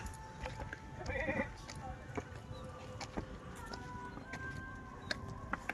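Goats bleat near a road on a Sunday motorcycle ride in Binangonan, Rizal. A couple of wavering bleats rise over engine and road noise, loudest early on, with faint voices in the background.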